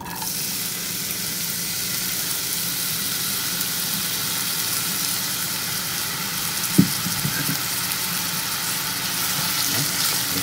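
Steady sizzling hiss of onions frying in hot oil, continuous and fairly close, with a couple of faint knocks partway through.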